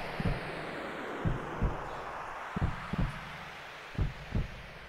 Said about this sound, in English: I really hate games that have that heartbeat noise.